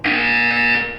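A buzzer in the video game Portal, one loud harsh electronic tone held for about a second with a sharp onset and brief tapering fade.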